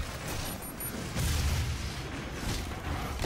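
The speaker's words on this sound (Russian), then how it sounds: "Вот у меня такой еще есть тройной выстрел." A triple-shot weapon firing in the video game Doom: dense, loud blasts and heavy booms, with a stronger surge partway through amid continuous game noise.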